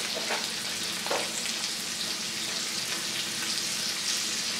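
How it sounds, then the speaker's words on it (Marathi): Pomfret fish frying on a tawa in Konkani style, a dense continuous sizzle of hot oil, close and loud, with a couple of faint clinks and no voices. "व्यवस्थित फ्राय करून घ्यायचे."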